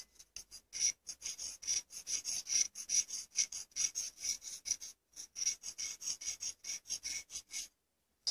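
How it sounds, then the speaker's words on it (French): A blade such as a knife, cutter or scalpel scrapes a stick of blue chalk into powder for a fake-sugar polymer clay trick, making rapid, rhythmic close rasping strokes that repeat steadily before stopping briefly. "On prend juste une craie et on gratte la craie."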